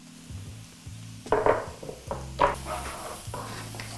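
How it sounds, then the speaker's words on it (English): Shiitake mushrooms with garlic, ginger and chili sauté in a pan, giving a light sizzle with a few sharp clatters and stirring knocks over a low steady musical tone. "So now that we're lightly sauteing that off"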